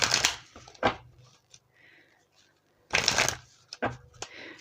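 Power Animal Oracle cards shuffled close up in two loud riffling bursts separated by a quiet pause, with soft taps and card handling in between.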